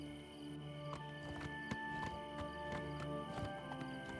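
A newly acquired horse in Oblivion Remastered clip-clops along at a steady walk, hooves knocking in a regular rhythm under sustained game music, moderately close.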